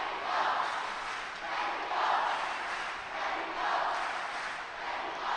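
A home crowd cheers loudly for Oliveira at a wrestling event, the Grand Slam Cancun: a dense, sustained roar of many voices that swells and eases in repeated waves.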